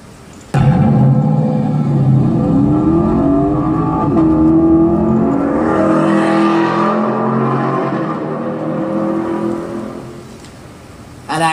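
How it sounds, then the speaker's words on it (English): Lexus LC 500 coupe engine revving on an auto show stage, a loud sustained roar with rising and falling pitch that holds for about ten seconds before easing off. "this LC 500 is what the more emotional Lexus looks like to me. And it's also what it sounds like."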